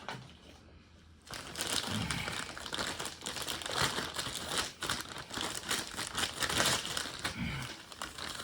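Zip ties ratcheted tight around a cable on a Toro personal pace walk-behind mower during a tuneup, a close, steady run of crinkly plastic clicking and rustling after a quiet opening second.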